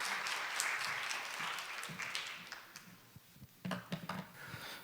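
An audience at an AI conference claps to welcome a company CEO to the stage. The steady applause is moderately distant and thins out into a few scattered, closer claps near the end.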